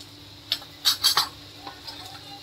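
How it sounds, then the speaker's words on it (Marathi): A spoon stirs spice powders, coriander-cumin, garam masala and red chili, into a simple moong vegetable dish in a pan, several close scraping clinks in an uneven rhythm, then lighter taps, with no one talking. "हे चांगलं कालवून घेऊया।"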